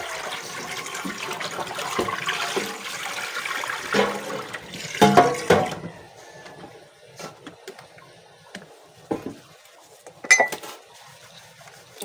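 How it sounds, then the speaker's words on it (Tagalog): Cups and plates washed at a kitchen sink, running water with scattered clinks and clatters of dishes knocking together, louder bursts midway and toward the end, no talking. "Maghugas lang ako ng mga pinagkapihan, plato"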